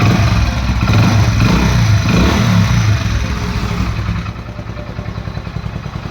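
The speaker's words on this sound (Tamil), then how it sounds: "இப்போ வண்டியை வந்து நம்ம வந்து ஸ்டார்ட் பண்ணி பார்ப்போம்" A Hero Splendor Plus motorcycle engine runs loud and close, a steady low throbbing idle that holds for several seconds and eases slightly toward the end, with no voices.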